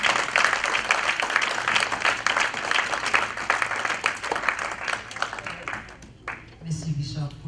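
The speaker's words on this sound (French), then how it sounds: "Donc tu peux acclamer pour toi-même." Steady church-audience applause with cheering fills most of the stretch, fading near the end as a voice begins speaking.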